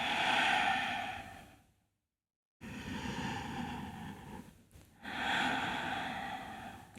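A person takes slow, deep yoga breaths: two long, airy exhalations, each followed by a quiet inhale, close and clear, with a brief silent pause between them.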